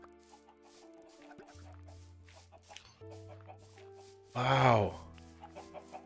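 Chickens cluck in Minecraft Bedrock, soft repeated clucks over game sounds and talk, with a sharp, loud squawking burst near the end before quieter clucking returns.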